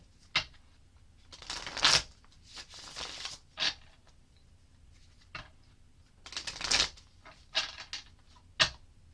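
A tarot card deck is shuffled in several quick riffling bursts with brief pauses between, close and fairly soft, with no talking.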